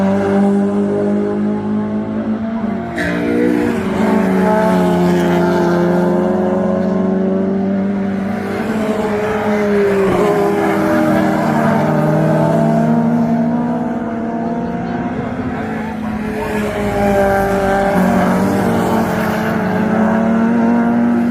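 Hot hatch race cars lapping Castle Combe circuit at the Howard's day 2022 meeting, engines roaring loud and close in a dense, unbroken wall of revving and shifting pitch, several cars overlapping for the whole stretch.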